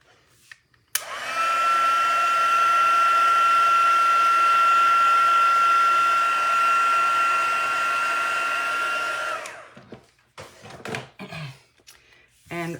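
A heat tool blows steadily for about eight seconds to warm paper before die cutting for a block stamping craft, a loud continuous whooshing roar with a thin whine that starts with a click and cuts off, followed by a few soft handling knocks.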